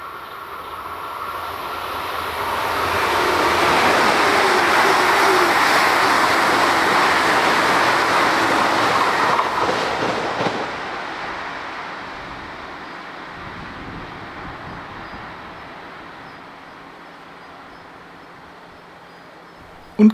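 An S-Bahn train passes on the Riedbahn line near Zeppelinheim, a broad rushing roar rising over a few seconds, holding loud as the cars sweep past, then fading gradually into the distance.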